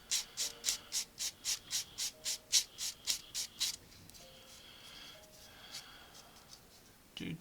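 Rapid rhythmic scraping strokes, about a dozen in quick succession, trimming a part off an Airfix 1/48 plastic model kit, close and soft, followed by quieter scattered handling sounds.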